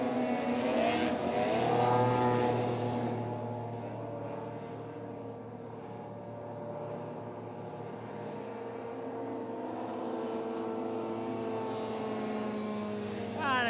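Race car engine revving hard during a circuit race at Rother Valley, a loud rising whine that settles into a steadier drone as the car passes, with no talking.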